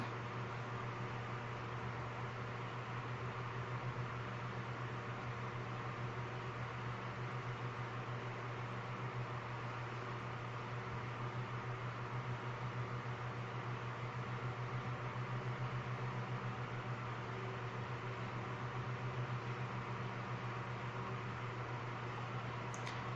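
A small electric fan runs steadily under a makeup table, giving off a constant whirring drone with a low hum that holds unchanged from start to finish, with no talking over it.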